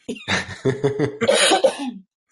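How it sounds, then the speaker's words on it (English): A burst of several harsh coughs in quick succession, close and fairly loud, trailing off into a brief throat sound. "Please excuse me if I cough and don't get to mute first"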